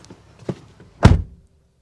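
Door of a 2020 Subaru WRX STI Series White closing, heard from inside the cabin: a couple of soft handling clicks followed by one heavy, muffled, close thunk that dies away quickly.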